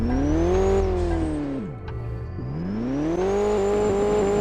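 A turbocharged car engine in the Roblox game Driving Empire revs up, drops sharply as it shifts or lifts off, then climbs again in a steady, loud, close whine that stays continuous throughout.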